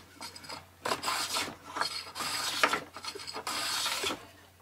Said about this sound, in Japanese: 丸ノコでついてしまった段差を取っていきます。 サンドペーパーで構いませんが、今回はカンナを使っています。